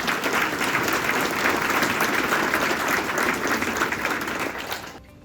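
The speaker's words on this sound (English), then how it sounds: "I think that deserves a round of applause." An audience applauds at a lower school building dedication, a thick, continuous wash of clapping that holds steady for several seconds, then tapers off and stops abruptly at the end.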